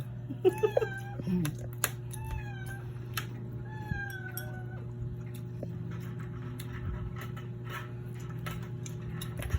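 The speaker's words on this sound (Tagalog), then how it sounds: "Kita nyo po pati mga pusa ay naghahabol pa." Cats meow several times, drawn-out and fairly close, while chasing food during a family meal of fish, tofu and eggplant, then fade under a steady low hum and light clatter.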